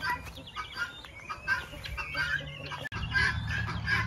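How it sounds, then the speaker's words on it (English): Chickens, ducks and guinea fowl in a spring permaculture yard cluck and chatter continuously in a busy, close flock, with overlapping calls and occasional sharper cries. "always the guinea fowls are jumping on the roof and on the mesh"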